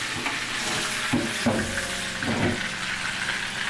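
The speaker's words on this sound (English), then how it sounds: "Let's rinse this pan out. Rinse out this bowl." Tap water running steadily as a pan and a bowl are rinsed in a kitchen, a continuous close rushing flow with a few clunks of dishes being moved.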